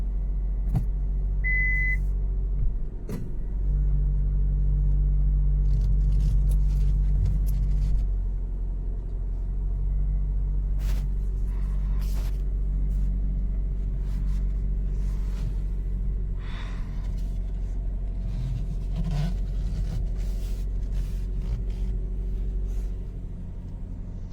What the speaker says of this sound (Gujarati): ગાઈસ ગાડી ચાલુ કરી દીધી છે. હવે ગાડી ગરમ થઈ જાય પછી આપણે નીકળીએ.